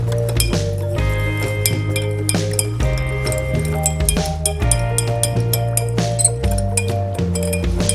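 A spoon clinks against the sides of a glass in quick, steady strokes, bright and close, as warm water is stirred, set against a sustained musical backdrop.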